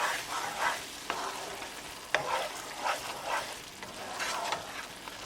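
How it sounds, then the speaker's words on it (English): Peas fry in a spiced tadka for an egg and peas curry, a soft sizzle broken by the scrape and clink of a spoon stirring the pan at irregular intervals. "Cooking peas with the tadka."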